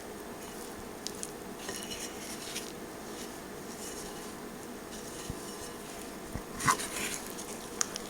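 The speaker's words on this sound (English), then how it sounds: "we're just stirring it around till we get it all blended together" A spoon stirs bread dough in a bowl, making soft, continuous scraping and squishing sounds with occasional light clinks against the bowl; no talking.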